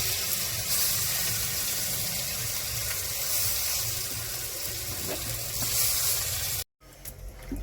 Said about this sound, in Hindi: अखन जे छे फ्राई हो रहल है।